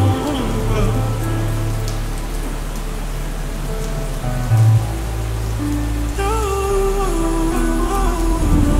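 Steady rain hisses loudly beneath a slowed, reverb-heavy R&B song with sung vocals and deep bass, the downpour constant throughout.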